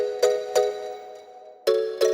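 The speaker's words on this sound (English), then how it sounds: "I need to use this bell somehow, and then I just played those chords" Soft, light bell chords struck in a triplet-like pattern: two bright ringing hits, a pause, then two more, each with a sustained shimmering tone, clear and alone.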